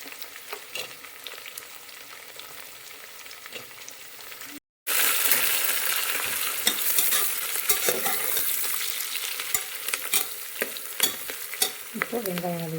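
Three thinly sliced onions are stirred and fried in a pan, with a quieter sizzle before a short break and then a loud, dense crackle and scrape of the spoon continuing to the end.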